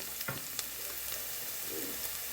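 Food sautéing in coconut oil in a pan before chopped tomatoes go in, a steady soft sizzle running throughout with a few faint clicks of stirring, fairly quiet and close.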